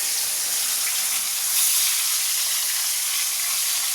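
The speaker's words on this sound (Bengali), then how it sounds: "মাছটা ভেজে নিয়ে যাবে।" Fish frying in oil in a kadai, a steady close sizzle and hiss throughout with a brief louder crackle midway, no voices.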